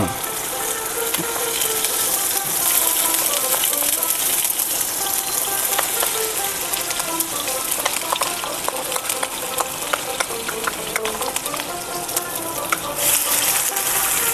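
Onion, garlic, ginger and green chili paste frying for a Bengali chili chicken dish, a steady, dense sizzle with spattering crackles throughout, close and fairly loud, with no talking.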